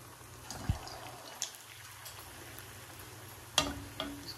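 Soft malai koftas sizzling gently in hot ghee in a home kitchen, a quiet steady frying hiss broken by a few clinks and splashes as pieces go into the pan.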